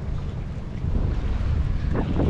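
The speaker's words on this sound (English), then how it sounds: "A little windy." Wind buffets a microphone by the water in Rockport, producing a steady, loud low rumble and roar that thickens partway through, with no voices.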